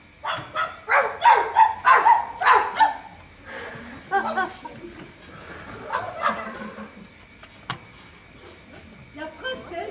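A dog barks in a quick burst of several loud yaps near the start, then lighter sounds follow, with laughter and voices mixed in.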